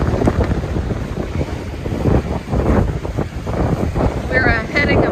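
Steady wind rushing over the water aboard a sailboat on a broad reach on the Lower Chesapeake Bay off Virginia Beach, a continuous broadband roar with gusty swells and some microphone buffeting, with no voice over it.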